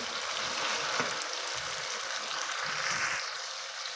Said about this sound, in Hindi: चिकन और प्याज को अच्छे से फ्राई कर लेंगे।